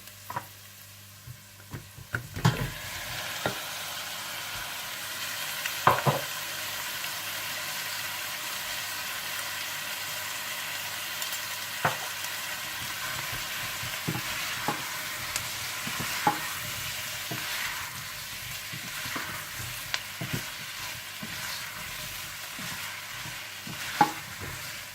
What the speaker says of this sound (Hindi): आप इसमें टमाटर और टमाटो पेस्ट डालकर अच्छी तरह से मिला लें।